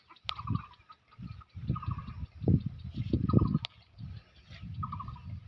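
Poultry calls repeat in short bursts: gobbling, clucking fowl nearby, with sharp higher squawks between them, against a quiet farmyard background.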